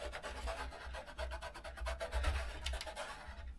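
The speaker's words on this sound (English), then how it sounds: "rub him down into place." Self-adhesive drywall tape is rubbed down onto an RC car body shell, giving close, rhythmic scratchy rubbing strokes that repeat quickly and evenly for a few seconds.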